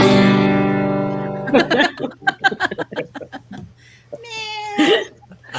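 During a tabletop role-playing game session, a person imitates a cat with a long, loud, drawn-out meow. Laughter and chatter follow right after.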